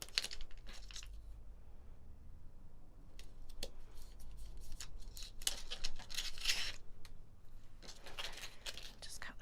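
Scissors snip through red sticky tape in a run of short, crisp cutting sounds with light crinkling in between, fairly quiet and close, with faint soft talking now and then.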